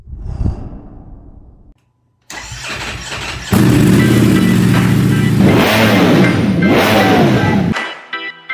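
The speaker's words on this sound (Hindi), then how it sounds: "this is the Toyota Hilux" A 2023 Toyota Hilux engine cranks and catches, then idles loud and close with a few revs, before cutting off near the end, with no talk over it.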